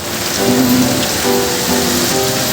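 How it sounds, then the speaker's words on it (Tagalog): Steady rain hisses broadly throughout, with faint tonal sounds drifting over it in the background. "maulan"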